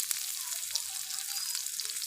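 Chopped onion fries in a pan over a strongly burning stove, giving a soft, continuous hiss and crackle that stays faint and even throughout.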